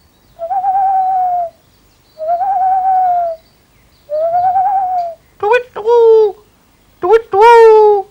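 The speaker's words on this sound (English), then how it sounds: "When spoken to, the owl in question hooted. Twice. Three times." An owl in a classic children's TV story hoots in three long, even calls, followed by two sharper, rising bursts, loud and close with clean pauses between them.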